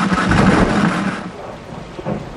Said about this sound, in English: It's just a little storm.